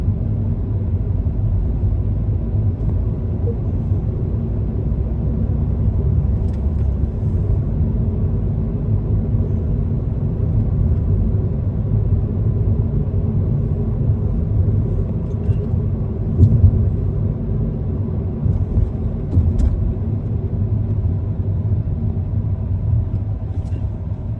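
A car rolls smoothly along an evening road in Riyadh, its steady low engine and tire rumble continuous and even from inside the cabin, with only faint occasional ticks above it.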